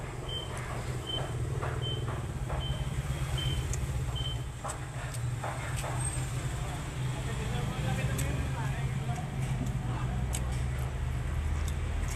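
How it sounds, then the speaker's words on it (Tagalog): A busy roadside by a small store carries a steady, loud rumble of passing cars and trucks, with a string of high beeps early on and sharp clicks and clatter over the constant traffic noise. "medyo maingay na daming sasakyan na daan"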